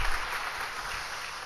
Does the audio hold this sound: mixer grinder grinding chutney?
no